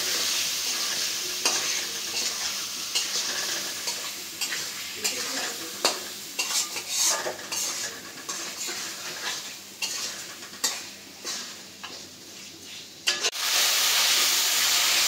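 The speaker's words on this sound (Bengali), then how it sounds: "এখন এটা মশলার ভিতরে দিয়ে দিব, দিয়ে ভালো করে কষাই নিব" Rohu fish head stir-fries in spice masala, a loud, close, continuous sizzle broken by scraping stirs and utensil clinks, briefly dipping near the end before the hiss surges back.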